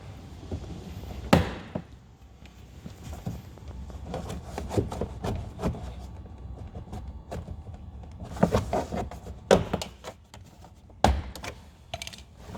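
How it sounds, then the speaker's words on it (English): Sharp plastic snaps and pops at irregular intervals as a flat trim tool prys the door panel clips off a Ford Fiesta Mk5/Mk6, with quieter scraping and handling noises in between, close up. "using your flat trim tool, start at the back, at the bottom, the plastic clips away"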